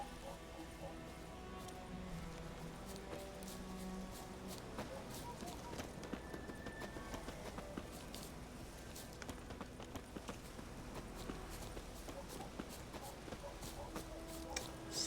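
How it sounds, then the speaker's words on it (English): Heavy footsteps tread through the woods in the video game Witcher 3, a steady, faint run of thudding steps over a constant low ambient background. "Those are some mighty heavy footsteps you have there, Mislav."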